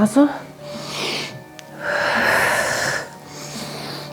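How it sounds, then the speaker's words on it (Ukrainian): Deep exercise breathing during a short morning warm-up, with a few audible inhales and long breathy exhales at close range, separated by brief pauses. "додаємо дихання вдих, видих, вдих, видих, вдих, видих"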